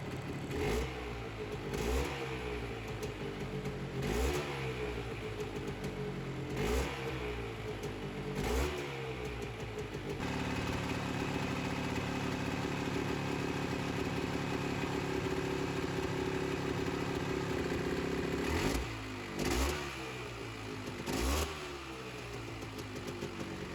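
Polaris Scrambler 400 ATV engine, suspected of a bad head gasket and overheating, starting with several loud revving bursts and then idling roughly and steadily at close range, with no talking.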